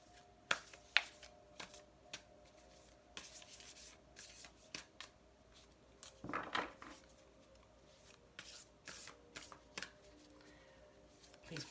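Quiet, intermittent riffling and soft card snaps, with one louder burst of shuffling midway, set against a faint steady hum.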